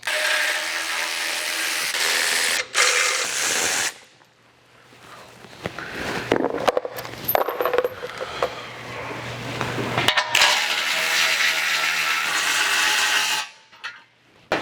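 A power tool with a 15 mm socket runs in loud, sustained bursts while removing skid plate bolts from a truck, separated by quieter stretches of clanking and ratcheting metal handling at close range.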